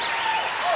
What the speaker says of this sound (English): they're starting a wave in the audience for applause